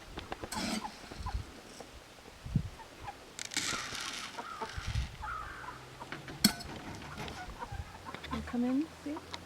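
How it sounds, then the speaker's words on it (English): Chickens cluck and murmur nearby in scattered bursts during morning feeding, with rustling and shuffling around them and an occasional louder squawk. "We're feeding chickens this morning."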